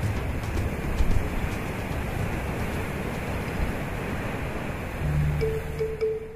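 Surf rolling onto the wild, rugged rock coast of Curaçao's desert-like north shore, a steady wash of water surging and pouring back, with a low rumble building near the end.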